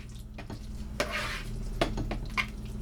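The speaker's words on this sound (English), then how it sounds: "So let's stir this up." A spoon scraping and clinking against a pot while stirring a chicken casserole with bacon and potato layers, a few sharp knocks and wet shuffling sounds over a low background hum.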